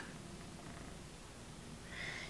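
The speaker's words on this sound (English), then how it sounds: "She loves to purr" A small house cat purrs softly and steadily, a low continuous rumble heard up close in a quiet room with no talking.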